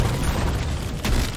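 A deep, sustained boom from an explosion in the video game Deep Rock Galactic, loud and dense throughout with a brief sharper burst near the end.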